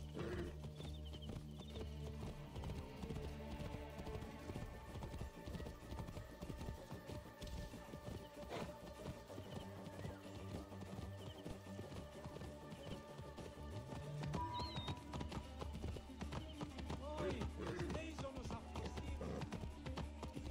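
Horse hooves clip-clopping in Assassin's Creed Origins, a steady rhythmic trot of a horse named Pegasus over a continuous bed of in-game music and ambience, with an occasional whinny-like sound.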